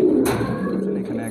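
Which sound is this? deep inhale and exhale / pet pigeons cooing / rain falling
pet pigeons cooing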